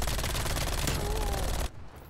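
Rapid automatic gunfire in Call of Duty Cold War, a loud continuous burst of shots that cuts off abruptly near the end, with quieter game ambience after.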